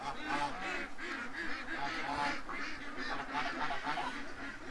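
A flock of ducks quacks and honks steadily while being fed, a dense, overlapping chorus of nasal calls close by, with a little speech mixed in.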